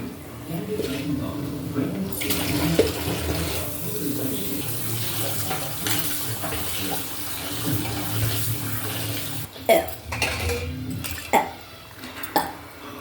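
Prawns being washed in water in a pot, with steady running tap water and splashing, then a few sharp clunks and sloshes near the end, close up, while a person talks over it.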